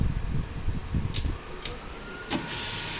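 A sublimation printer runs its head clean cycle, whirring with a motor hum and short mechanical clicks and swishes, heard close with uneven pulses of movement.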